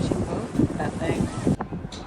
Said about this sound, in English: This thing is wobbling in the wind.